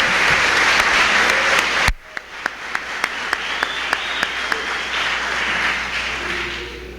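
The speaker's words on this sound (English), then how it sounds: "Let's give these folks a round of applause." Guests at a rescue squad Christmas supper receive a round of applause from the room, a full wash of clapping that drops off abruptly, followed by a few sharp, evenly spaced claps that trail into a softer murmur of continued clapping.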